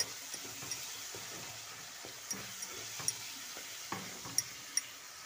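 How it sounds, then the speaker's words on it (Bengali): Spice masala with chili powder sautéing in a pan, a soft steady sizzle broken by light scraping stirs and small spoon clicks against the metal, heard close with no talking. "তো দেখো মশলাটা কষিয়ে নিচ্ছি"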